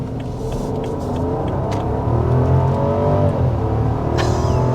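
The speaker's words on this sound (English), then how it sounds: "we have now taken off in the Rolls-Royce Ghost" A 2024 Rolls-Royce Ghost pulls away from a standstill, its engine note rising smoothly and steadily as the car gathers speed, heard from inside the cabin with a calm, muted hum.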